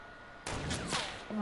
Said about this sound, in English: Grenade launcher hit.